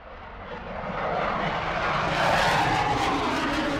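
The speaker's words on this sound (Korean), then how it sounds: "지금 상공에는 대한민국 문재인 대통령께서 국산 경공격기인 FA-50에 탑승해 계십니다" An FA-50 light attack jet flying overhead, its engine roar swelling from moderate to loud as it approaches and passes, a continuous broad rushing sound.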